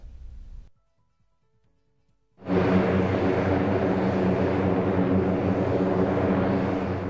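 Brief rumble, a near-silent pause, then a loud continuous military jet aircraft roar that swells and holds steady up close, at Korkyt Ata airport, Kyzylorda.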